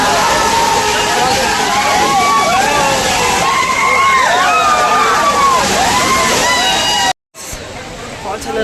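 Rushing water at Hogenakkal Falls heard from a coracle on the river: a loud, constant roar with voices calling over it, cut off abruptly near the end before resuming.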